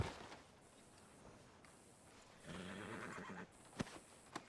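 A horse whinnies amid noisy outdoor ambience in the video game Red Dead Redemption 2, with a few sharp clip-clop knocks near the end; moderately quiet overall.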